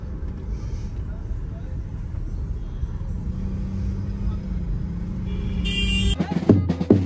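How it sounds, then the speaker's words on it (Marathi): Heavy road traffic at Karla in early-morning fog, a continuous low rumble of passing cars and vehicles with louder engine surges near the end, while people talk over it. "ट्रॅफिक बघा किती आहे, फुल ट्रॅफिक आहे पुरीला।"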